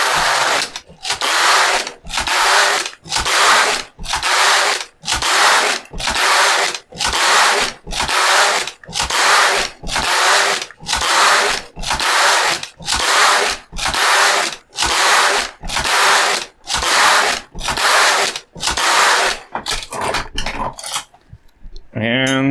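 A Passap knitting machine knits rows of waste yarn, its carriage making a loud repeated rasping, clattering sweep about once a second, each pass followed by a short gap, with a few faint rattles at the end.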